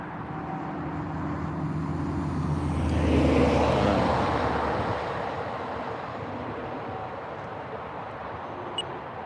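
A model airplane makes a knife-edge pass in gusty wind, its engine drone swelling as it passes nearest and then fading, with wind noise throughout.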